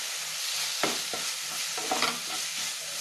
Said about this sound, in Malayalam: അരപ്പിന് ആവശ്യമുള്ള ഉപ്പും കൂടെ ചേർത്ത് 1 മിനിറ്റ് അരപ്പൊന്ന് വഴറ്റിയെടുക്കാം.